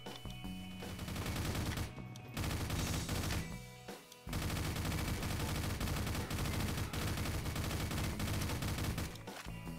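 Heavy gun from the Spastik's Toybox weapon pack firing in Garry's Mod: loud, sustained rapid bursts of automatic fire that fill nearly the whole stretch, broken by two short pauses, with no talking.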